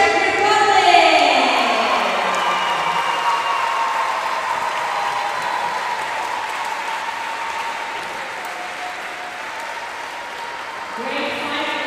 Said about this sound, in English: Big round of applause for Czech Republic